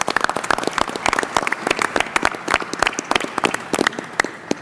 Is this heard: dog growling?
no